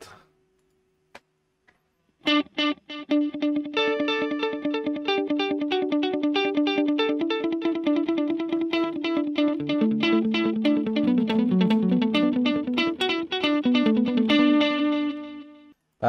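A Line 6 Pod Go guitar processor with a dotted-eighth delay on a church-style preset: picked guitar notes ring out with rhythmic repeating echoes that pile into a dense, shimmering wash, loud and steady, with no talking.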